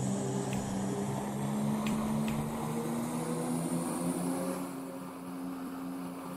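Class 168 Clubman diesel train in the Roblox game Snow Hill Lines, giving a low, steady engine drone with a faint rising whine, fairly quiet and continuous and easing off slightly near the end.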